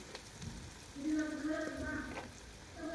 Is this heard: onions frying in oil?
yes